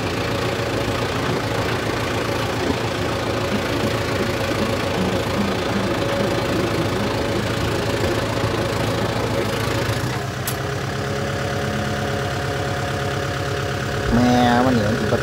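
A stuck vehicle's engine runs loudly and steadily with a rough, knocking idle while gears are shifted, the drone continuing unbroken and swelling slightly toward the end.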